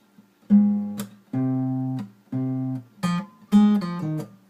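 A simple melody picked on guitar, five clear notes with short gaps between them, played alone and close.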